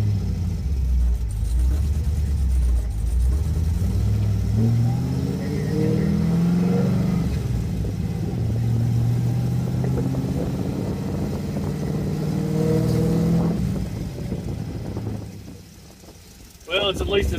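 A car engine revs and rises in pitch as it is driven in first gear, with several surging climbs and a steady rumble, then falls off briefly near the end before picking up again.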